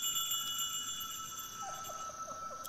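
Bell ringing in the video game The Count Lucanor, with sustained bright tones over a faint background and a few light tinkling notes near the end.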